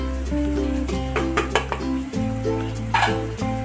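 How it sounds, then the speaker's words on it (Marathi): Spoon scraping and clinking against a metal pan while cardamom and nutmeg powder are stirred into carrot halwa, with a steady run of close, ringing metallic knocks and scrapes over a faint low hum. "वेलची घेतलेली मी आणि जायफळ पूड एकत्र करून"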